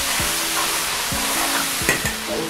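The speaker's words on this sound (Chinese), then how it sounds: "油点儿下锅，油点儿炒香" Fatty pork pieces fry in lard in a wok over a wood fire, a steady sizzle running throughout with a few spatula scrapes and stirs near the end, close and fairly loud, with no talking.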